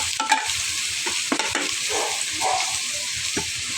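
Chopped chayote and roast beef being stirred and sautéed in a hot pan, a steady close sizzle with repeated scraping stirs of the utensil against the pan.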